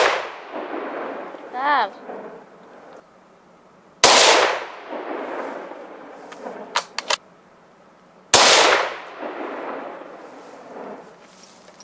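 .308 Winchester rifle with a short barrel, firing factory competition ammunition: three loud, sharp gunshots about four seconds apart, each with a long decaying echo, and a brief voice between shots.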